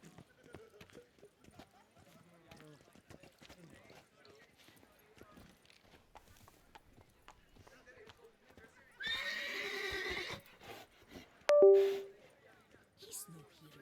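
Geralt's horse Roach in The Witcher 3: Blood and Wine gives a short whinny near the end, after a burst of noise and hoof clip-clops, with a voice talking over the game sounds throughout.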